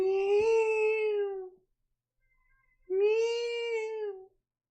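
A cat meows twice with drawn-out, plaintive calls separated by a short silence, close and clear, with no voices.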